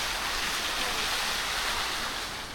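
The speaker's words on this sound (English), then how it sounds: "Not only a forest on top, also a waterfall." Rooftop waterfall in a building park in Fukuoka, Japan, gives a steady, broad rushing hiss of falling water that stays even throughout, fairly close and with no voices.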